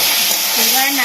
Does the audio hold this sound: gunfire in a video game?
no